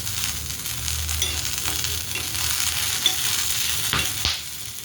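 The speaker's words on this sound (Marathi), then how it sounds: "इथं आपण मिरची टाकलेली आहे भाजायला. त्यात थोडंसं तेल टाकून घेऊया." Green chillies roasting in a little oil in a pan give a steady close sizzle, with scraping stirs and a couple of sharper clinks near the end.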